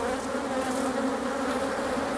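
A steady, dense drone of honey bees buzzing nearby, a continuous hum with no pauses or voices, tied to beekeeping work helping colonies adapt to a changing climate.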